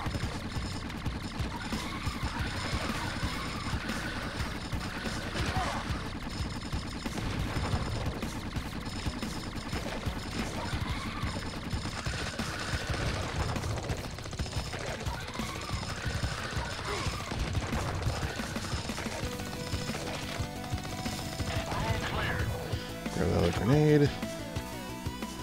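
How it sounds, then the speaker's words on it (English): Homing gun fire in the video game Xeno Crisis, dense continuous rapid shots and crashing impacts layered with game music, a sharp burst near the end. "I like this homing gun in this game."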